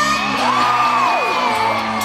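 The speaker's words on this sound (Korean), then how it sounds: "우리 다 같이 소리 지르기 시작할까요?" A loud crowd at a concert in Seoul whooping and screaming, one high voice swooping up and down above the continuous cheering.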